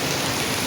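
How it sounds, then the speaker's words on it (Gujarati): Heavy rain pours down around a vehicle pulled over on a road in Kutch, making a dense, continuous hiss of drops with no voices. "જો મિત્રો ફૂલ વરસાદ વરસ બાજુ ઊભી રાખું"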